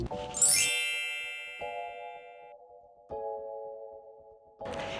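A Nissan Kicks parking sensor warning chime rings out as a bright electronic ding, then repeats twice more as steady, evenly spaced tones inside the cabin with no talk.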